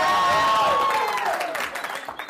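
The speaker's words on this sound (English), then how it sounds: "By a round of applause and your level of excitement, tell those who haven't seen me before how much fun they're going to have tonight." A live comedy show audience breaking into a short burst of applause with loud whoops and cheers that fade within a couple of seconds.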